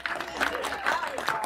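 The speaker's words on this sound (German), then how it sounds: "Ein kleiner Applaus also" An audience applauding at a quiz stage show, dense clapping from a crowd with a voice speaking over it.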